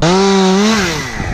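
A close, loud chainsaw whines steadily at high revs while being lifted up high in a tree, its pitch sagging and the engine roughening as it bogs down near the end of the short burst.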